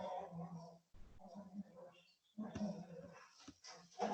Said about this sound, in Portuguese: Olha que bagunça do cachorro aqui atrás.